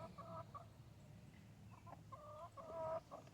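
Chickens from a small backyard laying flock cluck in short repeated bursts over a low steady background hum, fairly close and moderately loud.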